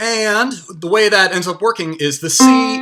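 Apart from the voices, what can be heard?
No everyday noises stand out.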